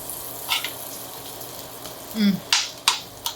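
Whole garlic cloves and vegetables frying in a pan give a soft, steady sizzle with a few sharp crackles and pops, fairly close and quiet, with no voices over it.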